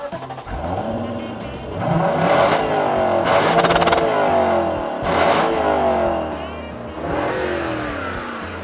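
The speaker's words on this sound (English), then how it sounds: "I know it's a V8 and it doesn't sound that good" A V8 car engine revs hard several times in bursts, its deep rumble climbing and falling, loud and close with tire noise between pulls.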